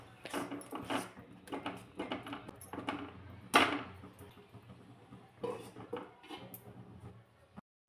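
Thick gram flour batter being stirred and cooked in a pan over a low flame, heard as repeated scraping and tapping of a spoon against the pan in irregular bursts, close by and fairly quiet, with one sharper knock midway.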